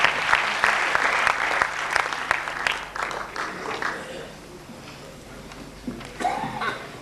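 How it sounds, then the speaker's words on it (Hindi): Audience at a mushaira applauds a poet's ghazal, a loud burst of clapping mixed with chuckles that fades after a few seconds, followed by quieter murmuring and a brief renewed rustle. "वैसी खूबसूरत तालियों की गुजारिश आपसे"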